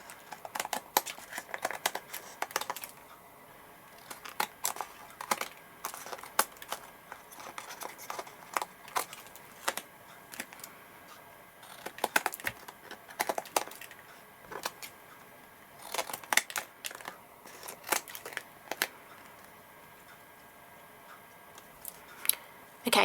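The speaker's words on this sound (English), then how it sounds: "take our long bladed pair of scissors, pick up our panel, flip it over and trim off any of our excess stalks" Long-bladed scissors trim the excess from a cardstock panel for a handmade thank-you card, giving a scattered series of sharp snips and clicks at irregular intervals, fairly close and alone.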